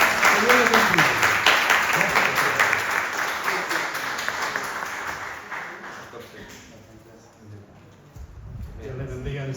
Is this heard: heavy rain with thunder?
no